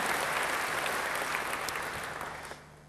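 A church congregation at an Indonesian sermon claps in praise of Jesus, a brief burst of dense applause that holds steady and then drops away quickly in the last half second.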